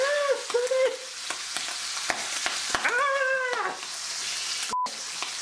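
Bacon frying in its leftover grease, a steady close crackling sizzle that runs throughout, with a few sharp pops and clicks and some brief tonal whines over it.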